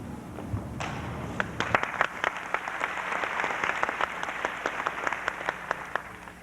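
A graduation audience in a high school ceremony breaks into scattered applause, individual sharp claps repeating unevenly at moderate volume after a brief low murmur.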